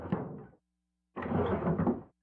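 Kitchen drawer in the Murder House video game sliding open, two short wooden scraping rumbles separated by a brief silence, close and fairly quiet.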